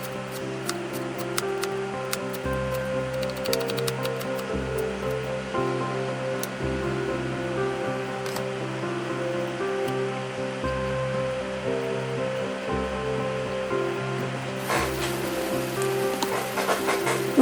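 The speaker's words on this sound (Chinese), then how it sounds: "用水洗一下。" Tap water runs continuously while shredded cabbage is rinsed in a kitchen, a steady close splashing wash under faint background music.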